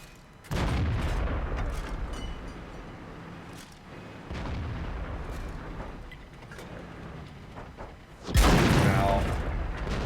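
Tank cannon fire in a tank video game, heavy booming shots with a loud blast at the start and a bigger one near the end, rumbling engine and battle noise between.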